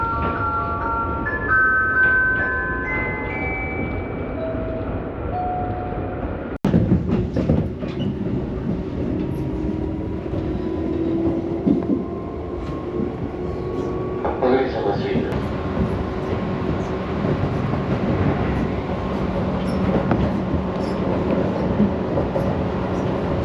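Local train bound for Hanyu pulling into a station platform in Saitama, with a rising electric motor tone, steady rumbling ride noise and a sharp clunk partway through, all heard from on board with background murmur.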